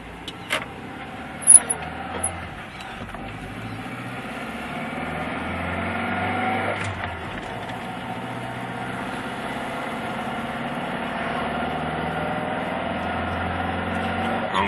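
A Jaguar Series 3 XJ6 with a five-speed manual climbs a steep hill, its engine a low, steady drone heard from inside the car, with a few faint clicks early on.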